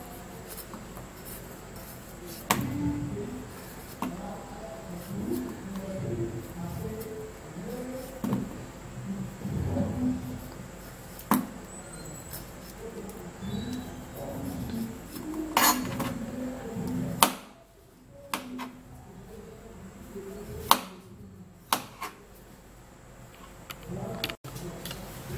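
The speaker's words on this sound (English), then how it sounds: "You're going to be peeling the pawpaw also." A pawpaw is peeled with a knife in a long run of soft scraping, slicing strokes. Occasional sharper clicks and knocks come from the knife and dish, and a brief quiet gap falls partway through.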